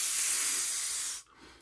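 A loud, close steady hiss like something sizzling on a Brillo pad runs for just over a second, then cuts off abruptly into near silence.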